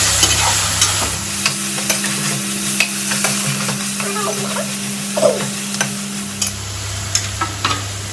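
Washed mutton pieces tipped into a hot pan with turmeric and stirred for a home-style mutton curry, a steady close sizzle with repeated spoon scrapes and knocks against the pan, no talking.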